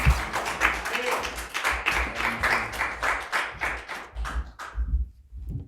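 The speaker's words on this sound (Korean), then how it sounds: "우리 하나님께 영광의 박수 올려드립니다." A church congregation claps in praise to God, a close, fairly rhythmic run of group hand claps with distinct beats, with some voices mixed in, tapering off near the end.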